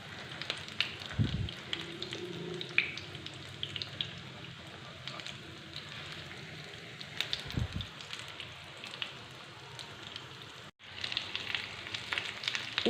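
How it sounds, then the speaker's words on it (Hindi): Aloo tikki potato patties fry in a pan with a steady, crackling sizzle throughout. Occasional louder pops and spatters rise above the continuous hiss. "टिक्कियाँ जो हैं वो फ्राई हो रही हैं"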